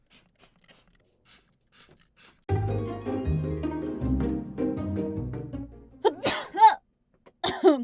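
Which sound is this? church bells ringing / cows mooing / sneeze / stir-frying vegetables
sneeze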